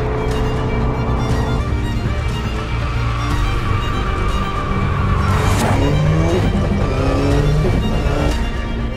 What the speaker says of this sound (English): The all-new 2022 Subaru BRZ